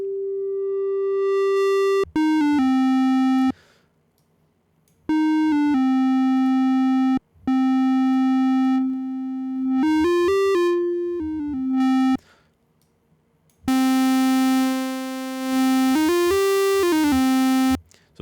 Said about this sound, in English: so it's kind of this distortion effect.